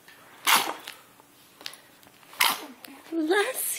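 A child's sneeze during play with Christmas toys, a sharp burst near the start followed by a second sneeze-like burst, with a voice and an adult speaking softly around them indoors.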